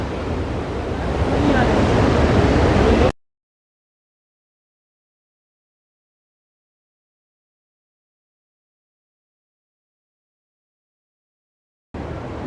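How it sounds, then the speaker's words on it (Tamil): Tirathgadh waterfall in Kanger Valley National Park, set amid forest, gives a loud, steady rushing roar for about three seconds. Silence follows, and the roar returns briefly at the very end. "காட்டுக்கு நடுவில் இந்த வாட்டர் ஃபால்ஸ் இருக்கிறது"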